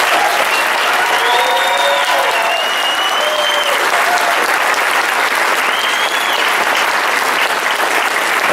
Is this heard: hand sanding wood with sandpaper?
no